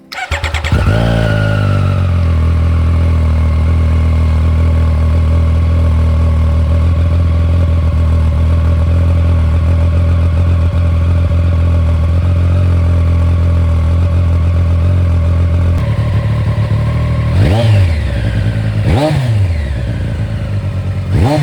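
A Triumph triple-cylinder motorcycle engine idles loudly and steadily up close, then is revved sharply twice near the end, each rev rising and falling quickly.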